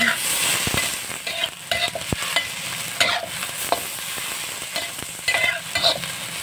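A pan of Taiwanese-style food stirred as it fries: a steady sizzling hiss broken by repeated close scrapes and clacks of the utensil against the pan, with no talking.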